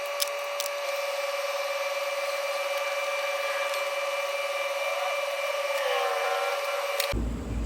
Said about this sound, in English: drill out these rivets right in here